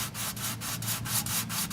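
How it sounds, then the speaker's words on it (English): Hand sanding on a car body repair area over a rusted panel gives a rhythmic back-and-forth scraping, about eight even strokes in quick succession, close and fairly loud with no talk. "I'm just gonna finish it with hand sanding this area over here"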